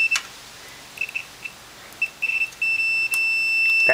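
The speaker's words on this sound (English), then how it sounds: "That beeping measures a closed circuit" A continuity tester checking an earth connection on a suspect Chinese battery charger ballast gives short intermittent beeps that merge into one sustained, close, loud tone near the end, with no talk.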